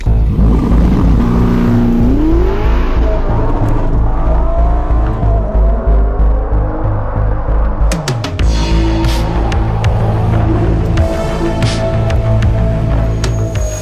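A loud Ferrari SF90 Stradale engine revs and accelerates close by, its pitch climbing through gear changes with a continuous throaty roar.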